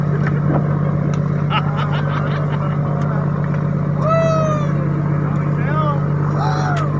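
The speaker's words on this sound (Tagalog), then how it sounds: "maingay. Tambutso yan, oh. Tambutso ng barko." A loud, steady low drone of a ship's engine exhaust fills the scene, with voices talking and calling out over it.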